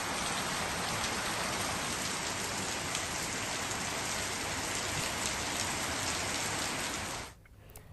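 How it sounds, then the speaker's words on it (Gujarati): Heavy, steady rain pours down in a dense, even hiss that stays loud and unbroken for about seven seconds, then cuts off abruptly near the end; no distinct thunder stands out. "15 દિવસના વિરામ બાદ ગાજવીજ સાથે વરસાદ વરસ્યો છે"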